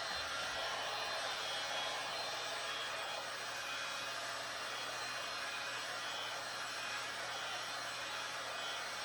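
A heat gun blows hot air over a Kydex holster (Hellcat AIWB sidecar) to soften it for shaping, producing a steady, even whooshing hum that runs unbroken and close for the whole span with no talking.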